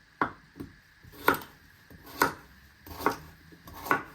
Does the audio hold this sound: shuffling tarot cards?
no